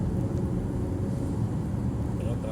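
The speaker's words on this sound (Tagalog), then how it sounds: "Pero traffic pa rin kahit walang banggaan." Steady road traffic on a wet, slippery street in Riyadh at night, with a continuous low engine and tire rumble filling the scene and no distinct single passes standing out.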